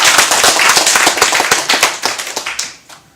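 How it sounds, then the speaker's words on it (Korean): Church congregation clapping hard together after a children's worship song, a loud dense burst of many hands that keeps up for about three seconds and then thins into scattered claps. "우리 다시 한번 박수 치겠습니다."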